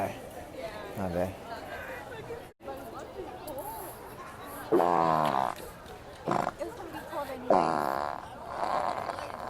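Fart noises from a school prank sound among chatting students: short rasping blasts that rise and fall, several of them, close and under talk.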